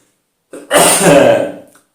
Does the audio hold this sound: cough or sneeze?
yes